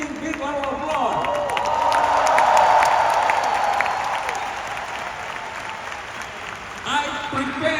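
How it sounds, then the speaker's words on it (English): A seminar audience gives a big round of applause, sustained crowd clapping with some cheering and babble, steady and full throughout before easing slightly at the end. "you can give me a big round of applause"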